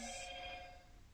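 A mobile phone rings in a kitchen where a baby blue and white wedding cake is being decorated. A steady bright electronic ringtone holds briefly, then fades under low room noise. No one speaks.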